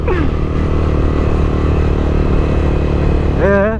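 A motorcycle being ridden on the road, its engine roaring loud and close in a steady drone before rising sharply in a quick rev at the end, with the rider's voice faintly mixed in.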